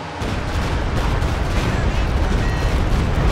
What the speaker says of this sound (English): Heavy mortar continuing to bombard him.